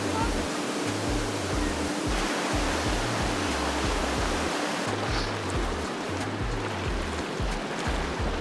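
Rhine Falls, the largest waterfall on the Rhine at 23 m high and 150 m wide, roars as a loud, steady broadband rush of water that continues without break.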